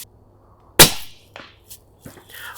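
A single loud, close 300 Blackout rifle shot cracks out and decays, followed by a few faint, distant clanks and small knocks.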